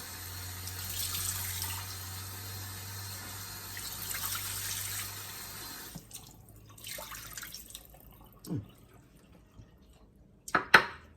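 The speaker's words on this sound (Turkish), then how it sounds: "Şöyle bir sudan geçireyim." Tap water runs steadily into a sink while green olives are rinsed, a soft continuous stream that stops partway, followed by a few faint drips and clatters.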